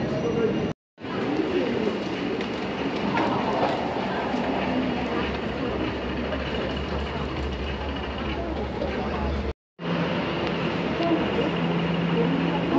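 A Shenzhen Metro Line 4 train is heard at Shenzhen North station as a steady, loud rumble of moving carriages and platform din, with two brief cuts to silence and people talking over it.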